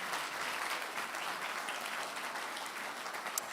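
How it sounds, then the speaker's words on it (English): Steady applause from a large audience at an XR industry awards showcase, a continuous wash of clapping heard at moderate volume throughout. "A round of applause for them."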